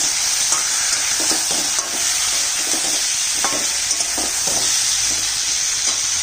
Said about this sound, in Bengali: সবজি ভাজা হয়ে গেছে, দিয়ে দিচ্ছি ছোট 1 চামচ হলুদের গুঁড়ো